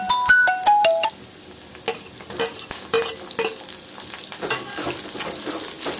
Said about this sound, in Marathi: मिरची छान झाल्यानंतर कांदे टाकून द्यायचे ना, कांद्याला पण छान होऊ द्यायचे तेलामध्ये